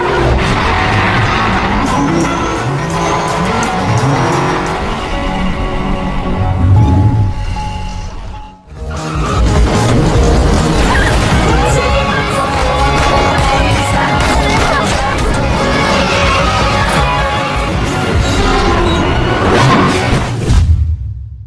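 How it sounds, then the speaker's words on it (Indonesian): A car pushed off the top of a building in the film Baby Driver: a loud, busy film soundtrack of rushing engine noise and whooshing, broken by a brief drop before another long, dense surge of crashing roar. "Baby berhasil mendorong mobil Buddy hingga jatuh dari atas gedung"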